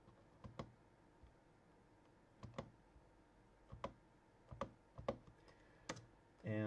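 Faint, sparse computer keyboard keystrokes come in small clustered bursts of clicks separated by quiet pauses, ending in a soft thud.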